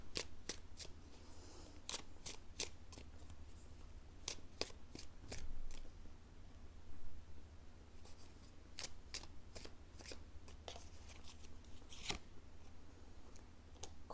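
Tarot cards are shuffled and riffled during a practical advice reading, with repeated crisp flicks and soft papery bursts at an uneven pace, close and quiet, with no talking.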